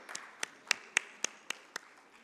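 Sparse audience clapping for a panelist at a corporate bond market conference panel in India: about eight separate, evenly spaced claps, fairly faint, with no talking.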